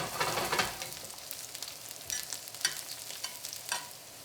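Zucchini sizzling and frying in a pan while being stirred, with soft scraping strokes over a light crackle, close and fairly quiet.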